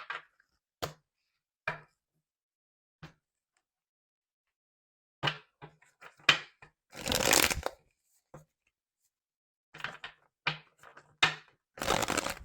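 A deck of tarot cards is shuffled by hand in quick riffling bursts separated by silent pauses, close and crisp, with a longer flurry of shuffling in the middle and another near the end.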